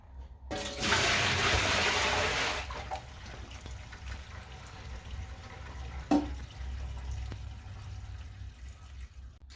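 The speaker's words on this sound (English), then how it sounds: "I'm going to pour a bucket of water down the sink, and then we're going to see where this is leaking from" A bucket of water poured down a leaking laundry tub sink makes a loud rushing gush for about two seconds, then gurgling drainage and scattered drips and clunks tail off quietly with no talk.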